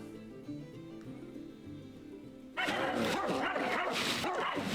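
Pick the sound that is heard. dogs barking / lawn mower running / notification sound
dogs barking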